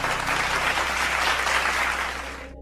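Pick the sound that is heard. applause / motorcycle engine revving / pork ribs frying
applause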